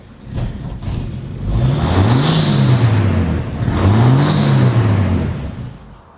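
A 1952 Chevrolet pickup truck engine rumbles loudly as it drives past, revving in two rising swells before fading.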